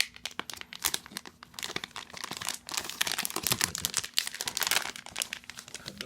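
Plastic packaging of a Soke composition-book-style iPad 7th generation case being cut and torn open, with continuous close crinkling and rustling and sharp tearing bursts.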